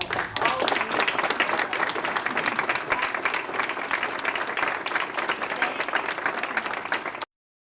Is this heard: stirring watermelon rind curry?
no